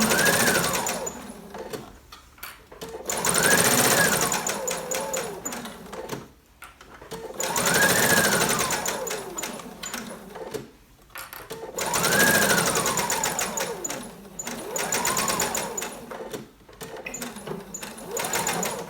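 Sewing machine stitching the leg seam of a pair of leggings, running in three long steady bursts of fast, even whirring separated by short pauses, close and alone.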